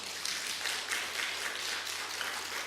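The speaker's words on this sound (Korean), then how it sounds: "우리 환영의 박수를 한번" A church congregation at a Sabbath worship service applauds to welcome two visitors, a steady wash of many hands clapping together in the sanctuary, held evenly for the whole stretch with no talking.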